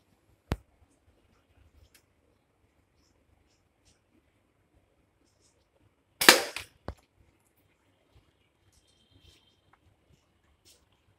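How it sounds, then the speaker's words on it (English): A slingshot (gulel) fires 6 mm steel BBs at a bottle cap: two sharp, loud snaps several seconds apart, the second followed by a brief rattle and a smaller click, with near silence between. "Bottle cap challenge done by slingshot and 6 mm BBs."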